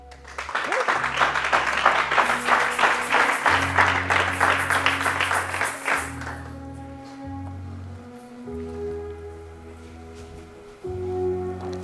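A church congregation claps and cheers in praise of the Lord for several seconds over sustained keyboard music, and the applause fades out, leaving the music alone.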